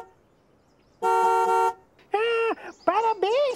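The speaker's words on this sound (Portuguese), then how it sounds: "Ei, Garibaldo, esse som é da buzina do carro." A car horn honks several times: one long blast, then a series of shorter, wavering toots, loud and close with a quiet pause between.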